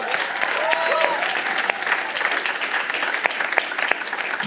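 A church congregation breaks into sustained, dense applause, loud and steady throughout, with a few faint voices mixed in.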